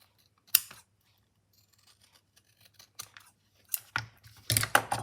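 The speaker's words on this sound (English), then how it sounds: "we will cut it." Scissors cut fabric for a stitchery project, a few sharp isolated snips spaced apart followed by a quick cluster of close crunchy cuts, quiet and near, with no talking.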